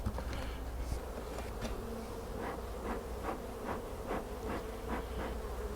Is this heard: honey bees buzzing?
yes